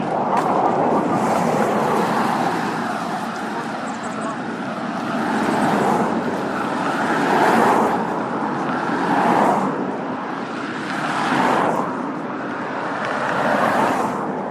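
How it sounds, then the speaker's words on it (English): Continuous traffic noise with cars swelling and fading as they pass every couple of seconds, a steady roadway roar throughout. "the traffic noise is less noticeable to the listener than it is to the producer"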